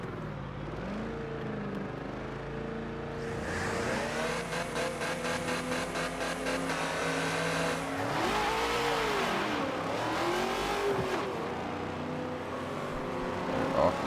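Drift cars roar through a competition run at Indy, engines revving hard and climbing as two cars launch together and initiate a tandem drift, loud and sustained with rising and falling pitch.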